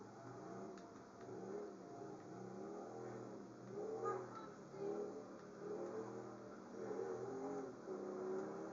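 A mid-pitched motorcycle engine in Grand Theft Auto V revs up and down repeatedly in waves, steady and fairly close, with no talking over it.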